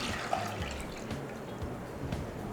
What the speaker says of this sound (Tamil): இப்போ நம்ம 1/2 லிட்டர் பாலை இதில் ஊற்றிக்கலாம்.